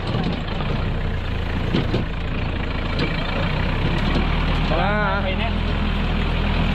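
A heavy tractor engine runs steadily with a low rumble throughout, while people talk nearby over it.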